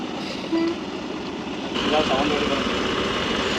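A private travels bus engine runs steadily as the driver pulls the bus out for a trip to the Konkan villages. The engine rumble is continuous and grows louder partway through, with a short tonal toot near the start.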